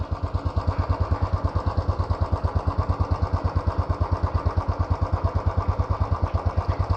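Royal Enfield Classic BS6 single-cylinder motorcycle with its stock silencer, idling up close: a steady, even thump of exhaust pulses repeating rapidly and evenly, moderately loud, with no talking.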